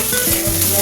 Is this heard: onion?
yes